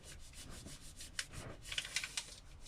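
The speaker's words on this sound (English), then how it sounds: "rub with the back of a wooden spoon." Gentle, quiet rubbing of a wooden spoon's back over paper on a plant print, a soft continuous friction with several brighter scuffing strokes toward the end.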